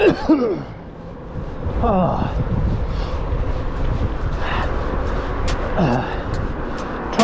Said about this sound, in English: to shift this cough